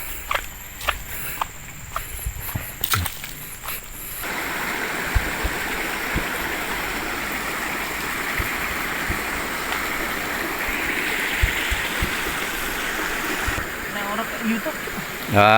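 Water rushes steadily over a small river dam feeding a hydram water pump, a broad continuous flowing roar close by, with a few footsteps and knocks early on.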